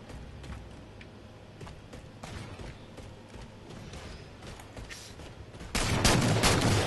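Gunfire crackles in the shooter Halo 4, scattered shots over a busy background that build into a louder, denser burst near the end.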